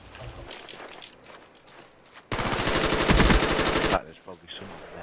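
Automatic gunfire in the Call of Duty Black Ops video game during a team deathmatch: a dense, loud burst of rapid shots lasting under two seconds, preceded by quieter game sounds and footsteps.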